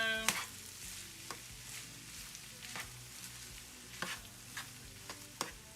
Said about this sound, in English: right now I'm just stirring all this together